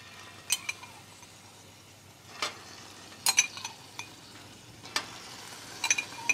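Cherries and port caramelizing in a frying pan for flambéed duck with cherries, a steady close sizzle of the reducing liquid broken by scattered light clinks and scrapes of a utensil against the pan.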